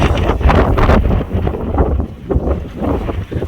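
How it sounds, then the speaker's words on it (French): Strong wind buffets the microphone at Sidi Kaouki on the Moroccan coast, loud gusty rumbling in uneven pulses with brief lulls, close and harsh, with no voices. "là il y a vraiment beaucoup de vent"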